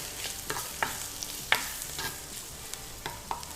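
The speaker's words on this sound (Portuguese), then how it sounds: "Enquanto a linguiça vai refogando aqui" Smoked linguiça sausage browning in a pan, a quiet continuous sizzle with light intermittent taps and scrapes of a spoon stirring the pieces.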